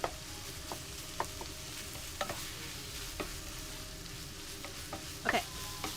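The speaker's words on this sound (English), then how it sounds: "Okay, saute that until it's cooked." Food sautéing in a pan for banana ketchup spaghetti, a soft steady sizzle with occasional light scrapes and clinks of a utensil against the pan, close and quiet.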